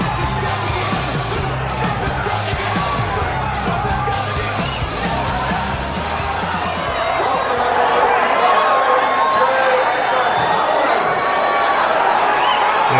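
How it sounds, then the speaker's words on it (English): A packed casino arena crowd at the WEC 5 Halloween Havoc fight event in 2002 roars and cheers with steady, dense chatter and whoops, swelling louder toward the end, with voices mixed in. "Yeah, definitely the crowd is pumped up."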